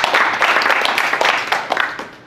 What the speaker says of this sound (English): So please give them a round of big applause.